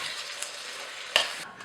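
Brief soft sizzle of a bamboo shoot and pork stir-fry as cilantro is stirred in, with a light scrape and a small clink of a utensil against the pan.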